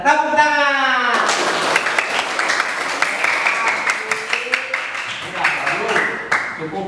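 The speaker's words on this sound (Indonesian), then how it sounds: "Cukup tepuk tangannya sebentar saja lah." A classroom of schoolchildren bursts into dense, loud applause after a brief voice, the clapping steady and crowded for several seconds before thinning toward the end.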